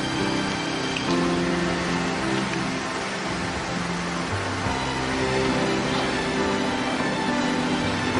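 Heavy rain pours down steadily, a dense continuous hiss of falling water that stays even and fairly close for the whole stretch, with no voices.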